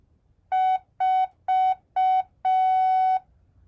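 Morse code beeps spelling a number: four short even tones followed by one long tone, loud, clean and alone against a quiet background.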